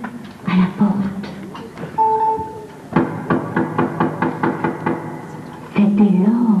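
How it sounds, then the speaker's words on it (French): Knocking on a door performed as a stage sound effect during a 1999 theatre show: a steady run of about ten sharp, evenly spaced raps, loud and close, with voices speaking before and after. "ils entendirent tous taper à la porte"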